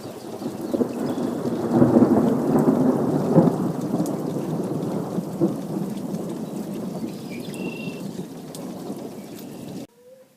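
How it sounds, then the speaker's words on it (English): Steady rain falls in sunny weather, a dense, even patter close by that swells slightly early on, then eases and stops abruptly near the end. "I'm still getting rained on."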